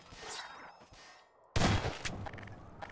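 Gunfire striking the player in Half-Life 2: a quieter stretch, then a sudden loud burst of impact and shot noise with a couple of sharp follow-up cracks.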